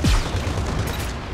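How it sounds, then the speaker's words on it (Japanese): An explosion in the mech shooter Gundam Evolution, a loud booming blast that hits at once and then spreads into a dense rumbling roar for about a second. "爆発"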